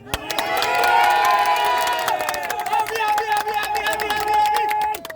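A large crowd cheers and applauds loudly for a president, with a dense roar of shouting voices and clapping that swells early and holds steady before cutting off.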